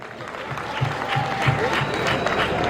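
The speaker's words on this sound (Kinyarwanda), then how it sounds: "amashyi menshi cyane ku karere ka Huye" A crowd applauds Huye district at the Siga Art Festival, a moderately loud burst of clapping that swells and holds steady while a voice speaks over it.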